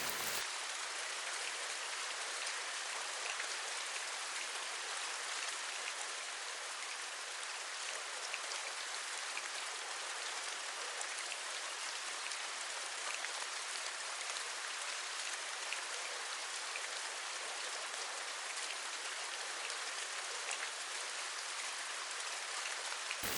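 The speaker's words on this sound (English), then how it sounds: "Even though it's raining, it's still beautiful in the rainforest," Steady rain pouring down in a rainforest, a dense, even hiss of drops on leaves and ground that holds unchanged throughout with no voices.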